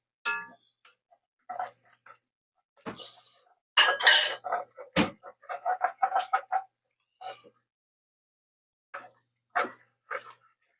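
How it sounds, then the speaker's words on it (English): Spoon stirring food in a pot while cooking a Thanksgiving dish, heard as scattered soft clinks and scrapes against the pot. People talk intermittently throughout. "It smells good, even if I'm stirring poorly."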